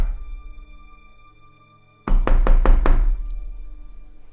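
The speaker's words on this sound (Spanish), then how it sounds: "escuché que tocaban a la puerta" Insistent knocking on a door after heavy rain: a quick burst of about five loud, sharp knocks in close succession, preceded by near silence and followed by a low lingering hum.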